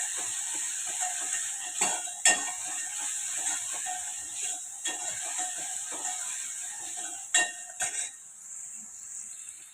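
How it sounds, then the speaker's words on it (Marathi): Onion sautéing in oil in a pan gives a soft, steady sizzle with a few sharp clinks and scrapes of stirring scattered through, fairly quiet and close, with no talking. "हा कांदा आपण छान परतून घेऊया। कांदा हा छान मऊ होईपर्यंत आपल्याला परतायचा आहे।"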